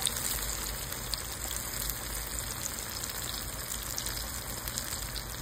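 Bananas frying in a pot of hot oil, a steady dense crackling sizzle that holds evenly throughout with no pauses or voices.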